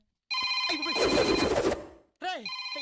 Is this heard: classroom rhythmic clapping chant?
no